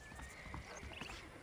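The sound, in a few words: horse clip-clop in video game Red Dead Redemption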